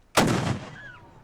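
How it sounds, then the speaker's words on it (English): A historic cannon fires a single loud, close blast at a fort's 135th anniversary ceremony, the boom rolling out and fading over about a second. "135th anniversary firing of the cannon at Belle Reve Fort"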